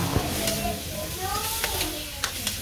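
Shrimp sizzling in garlic butter in a pan, a steady frying hiss with a few soft stirring clicks, close and moderately loud throughout.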